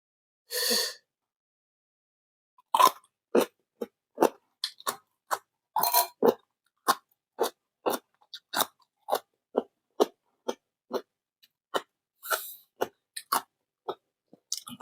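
Someone bites into and chews crispy baked mango: a rapid run of sharp, close crunches in quick succession, with short gaps between mouthfuls and no talking.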